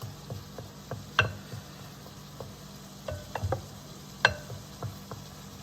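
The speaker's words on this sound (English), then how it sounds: "And just stir it in well." Ground beef and onion with a packet of taco seasoning being stirred in a hot pan, a soft sizzle running under scattered scraping clicks and a few sharper utensil knocks against the pan.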